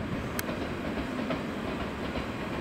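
A JR 113 series electric train at Okayama Station rumbles loudly and steadily as it departs, with a continuous rolling roar and a few sharp clanks from the cars and track.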